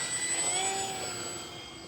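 A small E-flite Micro Scrappy 800mm electric RC plane motor whines steadily during takeoff with flaps down, a high buzzing tone that holds close and gradually fades a little as the plane pulls away.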